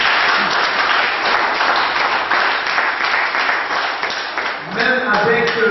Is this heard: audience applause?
yes